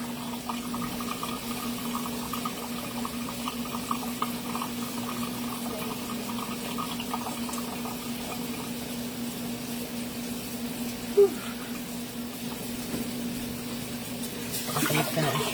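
Steady hiss of running water during rinsing, continuous and moderately loud, with a constant hum underneath and a brief click near the end.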